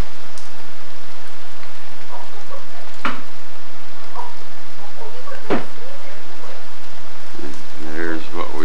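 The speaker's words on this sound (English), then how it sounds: "since it's raining." Steady rain hisses outdoors, with a couple of sharp knocks and a brief voice near the end.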